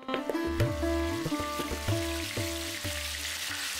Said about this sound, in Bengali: তেল হালকা গরম হয়ে আসলে এক এক করে দিয়ে দিচ্ছি মাছের মাথার অংশটুকু।